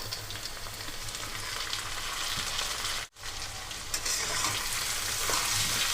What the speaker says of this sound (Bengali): পেঁয়াজের সাথে টমেটোটাকেও এখানে খুব ভালো করে আমি নরম করে ভেজে নেব